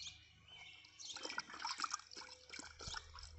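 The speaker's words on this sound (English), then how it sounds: "Is this how we drink water in the South?" An English Setter laps water from a bowl in a southern home, giving wet, irregular splashes and drips close by that grow busier midway through, with faint chirpy background sounds.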